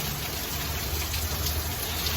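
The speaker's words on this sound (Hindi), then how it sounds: "तो बारिश होने लगी" Steady evening rain falling outdoors, a dense, even hiss of drops that stays constant and fairly loud throughout, with no voices.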